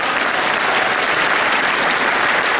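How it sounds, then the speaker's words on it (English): An audience at a Lunar New Year celebration breaks into loud, sustained applause, a steady roar of many hands clapping together without pause. "Can you give them a round of applause?"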